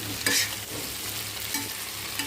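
Chunks of potato fry in a pan with onion, green chili, tomato and curry powder, a steady close sizzle broken by a few scraping stirs, with no talking.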